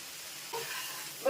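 Ground fennel seeds dropped into hot oil for Bengali sukto give a brief soft sizzle and stir, fairly quiet and alone, with a sharper burst right at the end.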